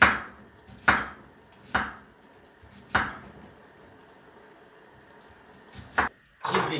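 Knife chopping an onion into rings on a board, with sharp separated cuts at an irregular pace, about seven strokes, close and fairly loud against a quiet kitchen.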